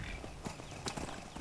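Horse hooves in the video game Skyrim beat out a quick, rhythmic clip-clop of several steps, moderately close and clear, with no talk over them.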